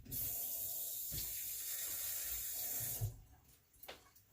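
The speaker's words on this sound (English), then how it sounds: "Let me rinse my one hand." A kitchen water tap runs steadily as a hand is rinsed under it, a close hissing stream for about three seconds before it shuts off, followed by a few faint splashes and handling noises.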